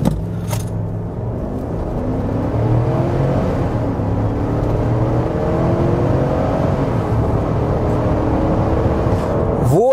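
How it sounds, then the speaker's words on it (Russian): A Chevrolet Tahoe or Toyota Land Cruiser 300 GR Sport SUV at full throttle from 80 to 120 km/h gives a loud, steady engine drone whose pitch climbs through the run, with road and wind rumble underneath, heard from inside the cabin. "Теперь 80-120 в обычном режиме. Газ в пол. Хорошая реакция на кикдаун."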